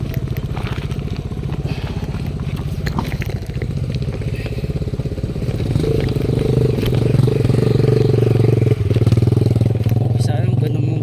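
A motorcycle engine runs nearby with a fast, even, thumping idle that grows louder and fuller partway through, sounding close and steady with faint clatter.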